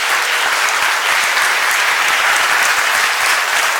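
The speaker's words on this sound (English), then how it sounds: "Let's give them a round of applause." Steady, loud applause from a keynote breakfast audience at a chiropractic association fall convention, dense clapping filling the whole stretch without voices.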